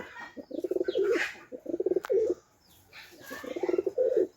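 High flyer, cross Gribas and racing homer pigeons coo close by in three rolling, throaty bursts, with a brief click between calls.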